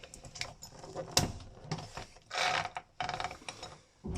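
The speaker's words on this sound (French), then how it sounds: "L'abattant se glisse sur son support." A Japanese toilet seat slides onto its mounting bracket with quiet plastic clicks, scrapes and a short rattling glide, faint and close with small pauses between sounds.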